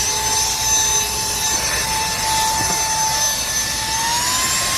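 A BAYU 2 Pro car vacuum cleaner runs steadily with a loud, even whooshing roar and a high whine, holding one speed throughout with no talking.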